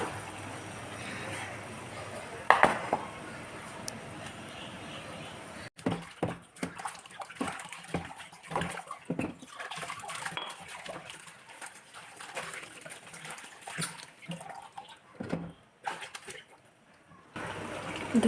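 Vegetables washed under running water in a home kitchen, a steady close gush and splash with intermittent sloshing, handling clatter and faint background sounds.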